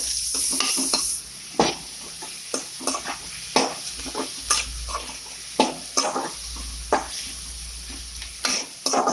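Tomato, ginger and garlic fry in a pan for egg pepper masala, a steady close sizzle broken by repeated sharp scrapes and clacks of a stirring spoon against the pan.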